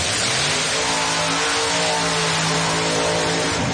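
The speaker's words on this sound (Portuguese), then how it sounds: "A insanidade do V8 4x4 do José Mário de Maí." A V8 four-wheel-drive car at a drag racing track event, revving hard with a loud, sustained roar and rising engine tones, heard close and continuous with no talk.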